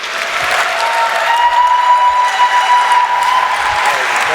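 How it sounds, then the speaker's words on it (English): Applause from a comic con audience welcoming two panel guests at Austria Comic Con 2024, a loud, steady wash of clapping with scattered cheering that fills the hall for the whole stretch. "Please give a warm Austria Comic Con applause"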